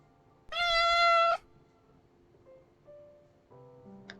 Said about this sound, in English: Barry rolls over on the sofa, revealing his belly, meowing softly to get you to pet her.